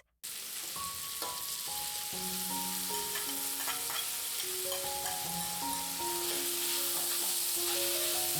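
Halved fish balls and sliced squid cooking in a pan give a steady, dense sizzle throughout, with clear ringing tones playing underneath, and no talk.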